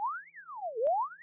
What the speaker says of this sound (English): Then you can get like a siren sounds like this.